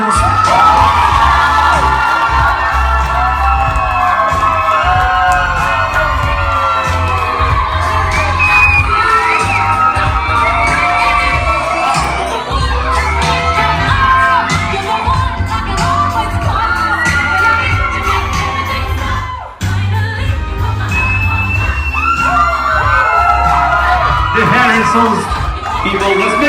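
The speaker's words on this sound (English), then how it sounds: "let's all join in with a big round of applause and make some noise to welcome Adam and Landon, the Harrisons" Wedding guests at a reception cheer, whoop and shout continuously to welcome the newlywed couple, a loud dense crowd roar with children's high shouts over a steady music bed.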